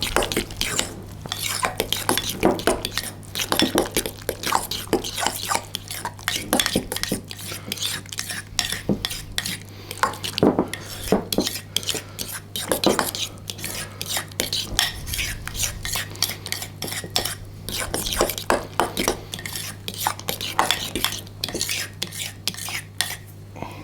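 Utensil scrapes and clinks against a bowl as kolache filling ingredients are mixed together, a busy, continuous rhythmic stirring close by with a low steady hum underneath.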